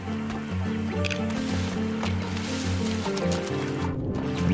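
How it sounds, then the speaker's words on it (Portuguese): Sonic runs through water in Sonic Frontiers, a soft liquid swishing and splashing layered over steady game music, moderate in loudness and continuous, with a brief pause near the end. "É muito legal quando o Sonic tá andando na água aqui"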